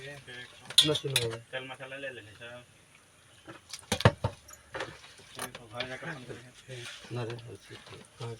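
Aloo bonda batter being mixed in a metal bowl, with clinking and scraping knocks in bursts under steady talking throughout.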